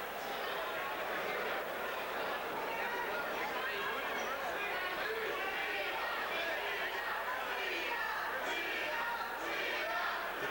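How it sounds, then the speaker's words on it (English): A boxing arena crowd at a pro fight chants the name Leon amid a steady roar of cheering and hubbub, heard at a distance and continuous throughout. "Chant going up, Leon, Leon from the crowd here."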